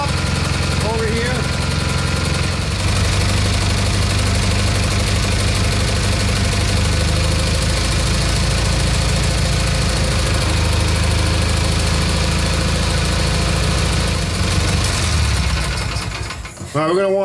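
A Kohler Magnum engine on a Simplicity Sunstar garden tractor runs steadily with a loud, continuous low rumble and mechanical clatter throughout, dropping off near the end. Close by, with talk over it.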